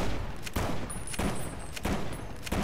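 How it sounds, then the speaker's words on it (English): Gunfire in the video game Fallout: New Vegas, several loud shots spaced roughly every half second against dense game noise and a faint high tone, with no talk. "Something else shooting me."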